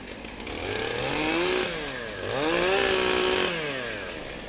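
Chainsaws rev up in two rising and falling bursts at a timbersports championship, their engines climbing in pitch, holding, then dropping back to idle, loud and close.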